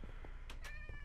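Minecraft cats meow several times in quick succession, short bright calls close by over a low background rumble, with no talking.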